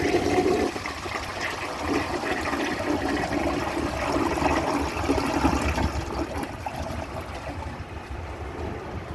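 A 1952 Briggs Prince toilet flushes with a loud, close rush of water that pours steadily throughout, tapering slightly toward the end.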